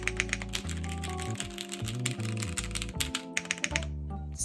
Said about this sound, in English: This board sounds pretty good.